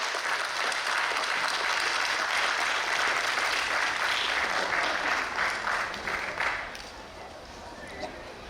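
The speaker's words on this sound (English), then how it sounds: "please give him a big round of applause" Big round of applause from an audience at a BC Day community celebration in Coquitlam, loud and sustained, then fading out near the end.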